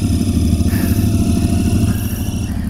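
A Continental GT 650 motorcycle fitted with a dB killer in its exhaust revs under throttle, a loud, close, steady thumping rumble with slight swells in pitch.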